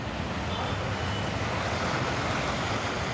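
Street traffic rumbles through downtown Colombo in a steady, dense wash of engine and road noise from cars, buses and trucks, close by and unbroken.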